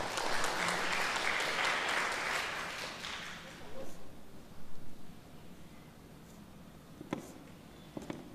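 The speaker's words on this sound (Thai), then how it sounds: "ขอเสียงปรบมือให้กับผู้ประกวดด้วยนะครับ" Audience applause for a contestant at a youth music competition, a burst of dense clapping that fades out after a few seconds, leaving quiet room noise with a few scattered sounds.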